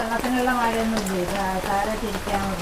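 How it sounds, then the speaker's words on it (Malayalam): Steady light rain falls outside a house, a continuous soft hiss that runs throughout while someone talks over it close by. "എന്താ മഴ കണ്ടോ ചനു ചനുപിനേനെ പെയ്തും കൊണ്ടിരിക്കുന്നത്"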